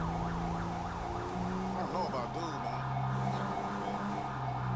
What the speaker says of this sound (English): that guy is still driving around with this siren stuck on